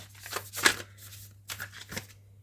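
A deck of oracle cards riffled by hand at close range, with a couple of short papery bursts and a softer flutter afterward over a low steady hum.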